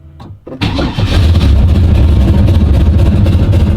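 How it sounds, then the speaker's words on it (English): An LS V8 engine with a 7/8 race cam cold-starts after a brief crank, catching at about half a second and settling into a loud, steady, lumpy idle close by, with no talk over it. "That's pretty good cold start, my guy."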